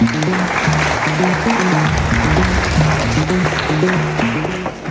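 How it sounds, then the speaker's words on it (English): Applause from a conference audience greeting a speaker on AI research, a dense, even wash of clapping lasting several seconds over a low recurring musical tone. "Please give a warm round of applause for Mr. Khan."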